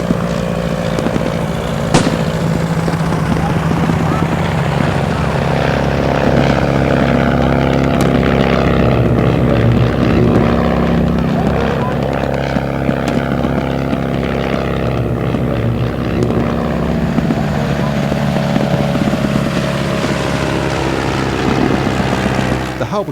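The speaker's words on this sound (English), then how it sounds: "the Halberstadt pilot sweeps in to aid his comrades on the ground and attacks the Bristol fighter" Loud, continuous droning engine and propeller noise of WW1 Halberstadt and Bristol fighter biplanes flying during a reenactment of the liberation of Le Quesnoy, holding steady with slight pitch shifts throughout.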